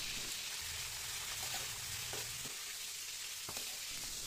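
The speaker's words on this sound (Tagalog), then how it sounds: "Padadaanin lang natin yan sa mantika mga idol." String beans (sitaw) frying in hot oil, a steady broadband sizzle with occasional stirring knocks, close and continuous, no voices.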